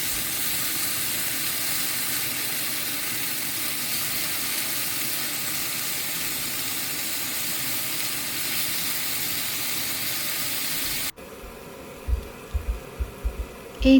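Chicken pieces for restaurant-style chicken kosha fry in a pan with a steady, continuous hiss and sizzle for about eleven seconds; the sizzle then stops abruptly, leaving a few scattered knocks and clatters.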